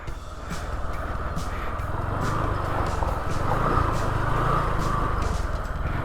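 Motorcycle riding across soft, waterlogged muddy ground, a steady low engine drone with rough broadband churn held at a fairly constant level throughout, no voices.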